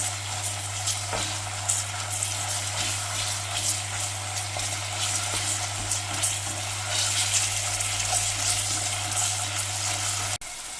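Minced meat and onion frying in a pan give a steady, dense sizzle that crackles close and loud without a break, with a low hum running steadily underneath.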